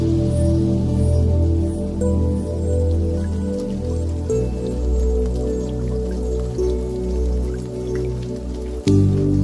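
Steady rain falls through a film scene, a continuous dense patter that stays even and fairly loud for the whole stretch, with a deep tonal backing underneath and a sudden knock near the end.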